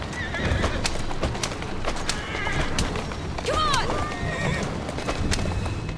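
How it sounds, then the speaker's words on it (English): In Assassin's Creed Syndicate, a horse whinnies with a rising, wavering neigh over rapid clip-clopping hooves and the rattle of a carriage, with someone talking faintly beneath the galloping. "Horse."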